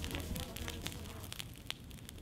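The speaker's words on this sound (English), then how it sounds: "Most of the overgrowth ends up on the bonfire." A garden bonfire of cut overgrowth burns in France with steady low roaring and scattered sharp crackles and pops, faint and somewhat distant.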